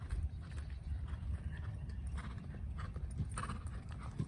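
Horse hooves clop softly during a riding lesson in an arena, a steady faint rhythmic plodding under low rumbling background noise.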